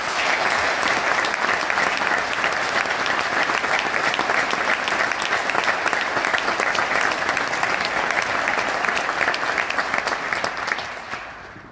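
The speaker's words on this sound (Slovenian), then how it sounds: "Hvala za iskren aplavz." A large audience claps in a steady, dense, loud ovation at an award announcement for the statement of the year, sustained throughout and tapering slightly at the very end.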